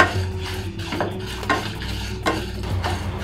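A freshly ground raw spice mix for bitter gourd karam is dry-roasted in a pan, with a spoon stirring and scraping in a steady rhythm over a faint sizzle, close up and with no talking.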